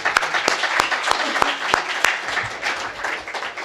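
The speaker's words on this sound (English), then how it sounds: "let's give him a round of applause" Audience applause at a Latino Coalition legislative summit in Washington, D.C., honoring the Labor Secretary; steady, dense clapping from a sizable crowd with a few sharper individual claps standing out, filling the room throughout.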